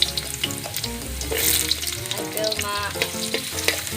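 Carrots sizzling and frying in a pan while being stirred, a steady loud crackle with clinks of a utensil against the pan, close up and continuous.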